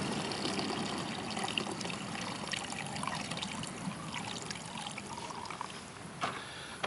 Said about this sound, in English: So I'm going to put 8 ounces of just regular gasoline.